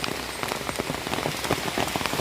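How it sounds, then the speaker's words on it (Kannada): Steady rain patters and splashes on surfaces close by, a dense continuous hiss with scattered louder drops and no voices. "ಮಳೆ ಬಂದು ತೋಡೆಲ್ಲ ಕಲಂತಾಗಿದೆ"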